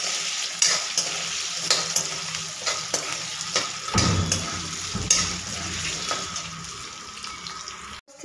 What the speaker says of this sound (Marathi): एकदम व्यवस्थित हलवून घ्यायचं